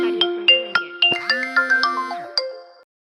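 A melodic phone ringtone for an incoming call plays as a quick sequence of about ten bright chiming notes over roughly three seconds, clear and close, with no other sound around it.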